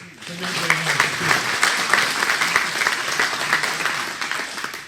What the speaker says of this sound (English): Our 2021 champion, and we'll give him a round of applause, Jake Traynor.